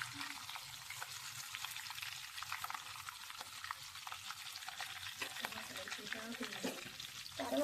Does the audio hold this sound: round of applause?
no